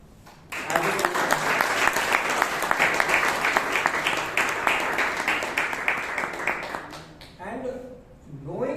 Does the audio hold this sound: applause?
yes